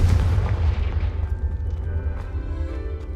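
A Confringo explosion spell goes off in a video game, one deep booming blast at the very start that rumbles and fades over about three seconds.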